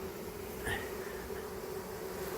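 A honey bee swarm hums in a steady, close drone that holds evenly throughout, with no talking over it.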